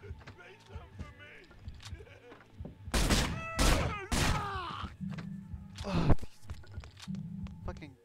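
Gunfire from the video game Manhunt erupts in a few loud, sharp broadband bursts midway, set among game noise, droning background hum and voices.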